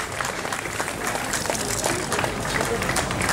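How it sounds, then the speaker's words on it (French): Dense audience applause fills a hall at a ceremony for a speaker, loud and sustained throughout with no pause. "On l'applaudit."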